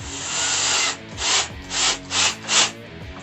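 A power drill whirs steadily, then runs in four short bursts as wood screws are driven into wood while assembling a nightstand, close and fairly loud.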